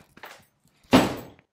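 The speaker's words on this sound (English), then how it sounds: "Before you go, close my door." A house door shuts with a single solid thunk and slam that decays briefly. A few soft shuffling steps come before it, and no one speaks.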